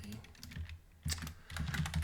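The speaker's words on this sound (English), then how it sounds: "I'm typing." Keystrokes on a computer keyboard while writing Haskell code, quick irregular bursts of clicks with a brief pause in the middle, close and fairly quiet.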